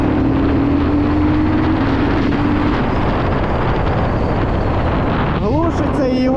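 A 2023 Geon X-Road Light 250 motorcycle pulls in third gear at about 7000 rpm, a close, loud, steady roar blended with heavy wind rush and a slowly rising engine whine, with a few short squeaky tones near the end.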